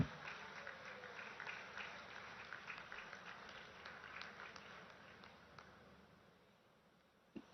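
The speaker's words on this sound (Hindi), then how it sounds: "आप सबकी तरफ से जोरदार तालियां अभिनंदन स्वरूप।" Faint, distant audience applause welcoming Prime Minister Modi at a public event in Jharkhand, a continuous patter of many hands that slowly fades toward the end.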